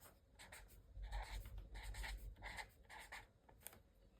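Navy blue marker, nearly dried out, writes across a journal page: soft, close, rhythmic scratchy strokes in short bursts, faint and with no speech.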